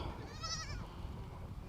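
Goats bleat in a short wavering call by a farm gate, with a steady low rumble of background noise underneath.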